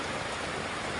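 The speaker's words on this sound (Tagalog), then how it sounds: "Inuulan na mga ka-tricycle." Steady rain pours down outdoors where tricycle drivers wait, a dense, even hiss of falling water with no pauses, close and continuous throughout.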